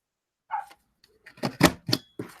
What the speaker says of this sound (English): You hear my little dog out there barking because now she wants to come in